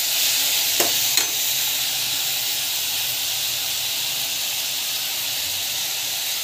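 Food sautéing in a pan, a steady close hiss and sizzle throughout, with a couple of brief clinks of stirring near the start and no talking.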